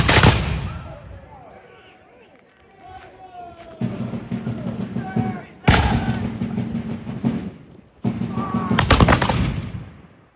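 Musket volleys crack out at a Revolutionary War reenactment of the Battle of Bound Brook, several sharp, loud rounds and ragged bursts of fire ringing across the open field, with shouted voices heard between and under the shots.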